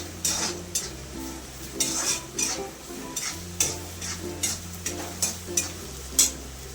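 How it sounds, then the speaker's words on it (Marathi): Garlic paste frying in a pan sizzles steadily, with repeated scraping stirs of a spoon against the metal in a loose rhythm, close and moderately loud, with no voices. "लसणाची पेस्ट घातली. आता 1-2 मिनिटं लसूण लाल होऊन द्यायचा."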